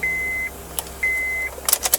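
A 2005 Honda Odyssey's power door locks triggered by key fob: two sustained electronic beeps, then quick mechanical clicks and a short clattering burst of the lock actuators, close and fairly loud with no talking.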